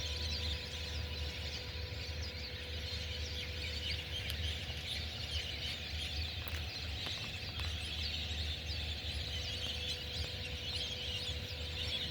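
Birds calling on a large pond of about 150 bigha, faint chirps and clucking calls over a steady low outdoor hum with a thin high background chorus, no talk over it.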